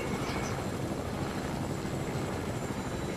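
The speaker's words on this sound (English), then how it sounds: "This is how you fly the helicopter" Steady, loud helicopter rotor roar in the video game Fortnite, with a dense whooshing wash, continuous and close, without any voices.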